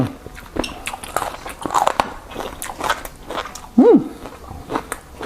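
Crunchy stir-fried pork cartilage with black pepper being chewed and bitten, with several distinct close crunches and crackles spread across the clip and a brief hum near the end.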